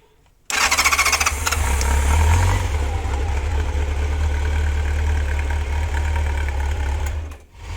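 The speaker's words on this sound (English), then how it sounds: "So the engine is cranked" A hot Honda CB750 four-cylinder motorcycle engine fires up after a short silence and settles into a steady, close, loud idle with an even throbbing beat, alone without talk.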